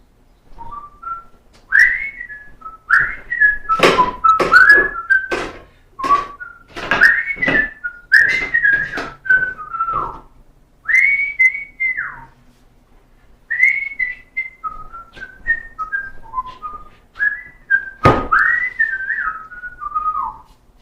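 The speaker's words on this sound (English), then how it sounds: "Can you tell me what tune I'm whistling?" A person whistles a melodic tune alone, with clear sustained notes and quick phrases, pausing briefly between lines over about twenty seconds.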